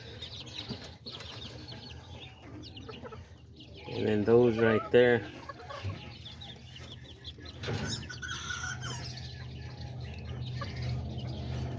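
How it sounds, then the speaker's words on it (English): Silkie chickens cluck and chatter nearby, with a louder burst of clucking in the middle, while someone talks briefly over the farmyard noise. "Right here I got 3 roosters and 4 hens."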